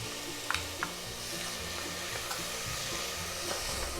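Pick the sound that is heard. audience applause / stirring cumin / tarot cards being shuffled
stirring cumin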